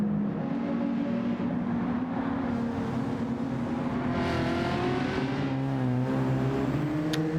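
A Ferrari F40 race car with racing brakes and weight reduction drives the Nürburgring, its engine a loud, continuous drone. The pitch climbs and falls through the gears, heard up close from onboard.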